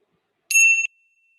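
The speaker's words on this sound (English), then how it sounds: "And in a moment, I will ring the bell." A single bright meditation bell strike rings out clearly after a moment of silence during a guided mindfulness session, its clean tone fading quickly, close and alone.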